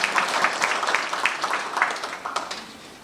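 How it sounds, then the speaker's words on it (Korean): An audience claps together in a steady burst of applause at a 2026 county residents' talk concert in Wonnam-myeon, Eumseong County, fairly loud and gradually thinning out toward the end. "박수 한번 주시기 바랍니다"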